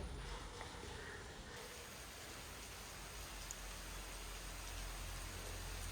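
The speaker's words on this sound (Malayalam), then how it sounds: "ഇവിടെ നല്ല മഴ പെയ്തുകൊണ്ട് നിൽക്കുകയാണ് കേട്ടോ" Rain falls steadily with a soft, continuous hiss, fairly quiet and unbroken throughout.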